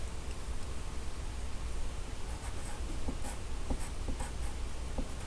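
A pencil writing out a division problem on paper: faint, close scratching strokes in short irregular bursts over a quiet hiss, with no voices.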